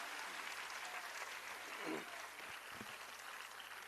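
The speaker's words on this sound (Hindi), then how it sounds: "जोरदार तालियों के साथ अभिनंदन।" Applause rises from an audience at a university event in Lucknow, a steady wash of clapping that stays fairly quiet and distant, with a voice briefly breaking through partway.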